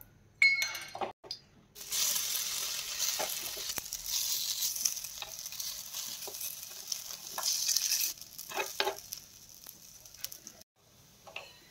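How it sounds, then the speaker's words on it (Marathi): Cutlets sizzle in hot oil in a pan, with a steady hiss broken by the occasional clink of a utensil against the pan. Soft stirring and scraping come and go throughout, and no one talks. "अशाच पद्धतीने आपण राहिलेले कटलेटही फ्राय करून घेऊयात।"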